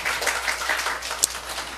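A church congregation claps in a brief, dense burst of applause that stays steady and moderately loud throughout.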